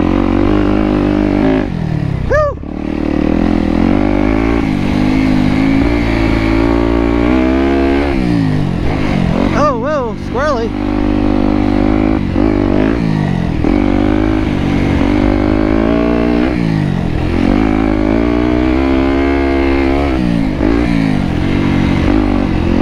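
Yamaha YZ250X two-stroke dirt bike ridden on a loose, sandy motocross track at Buttonwoods MX, loud close engine revving up and down through gears with sharp pitch sweeps under acceleration, continuous throughout.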